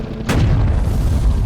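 A Yamato-style 60-caliber Type 3 15.5 cm triple gun turret fires once in the Sprocket tank-design game. One loud, close boom is followed by a long, heavy rumble that fills the rest of the moment.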